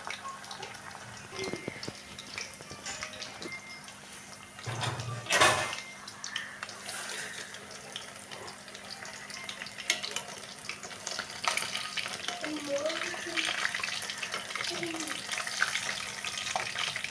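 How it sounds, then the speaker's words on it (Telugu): Pieces of food fry in a pan until golden, giving a steady wash of crackling sizzle with a brief louder burst midway and a voice in the background. "ఇప్పుడు అయితే వీటిని అయితే గోల్డెన్ కలర్ వచ్చేదాకా అయితే వేయించుకుందాం"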